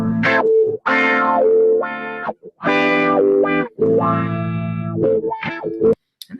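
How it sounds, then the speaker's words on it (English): A distorted track runs through a wah pedal automating a band-pass filter, its tone sweeping up and down across sustained notes in loud, alone phrases. "you can just hear the band pass filter just being automated around"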